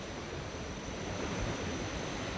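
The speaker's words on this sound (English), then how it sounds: "You can already hear the stream" A stream flows near a beach on the Kalalau Trail in Kauai, Hawaii, heard as a steady, even rush of water that holds without a break.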